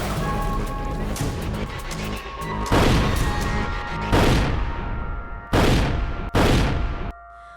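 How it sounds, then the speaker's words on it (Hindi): Repeated heavy booms and crashing blasts of cannon and gunfire, loud and reverberant, separated by short rumbling gaps. "तोप के गोले पूरे दिन भर तक कबीर जी के ऊपर चलाए"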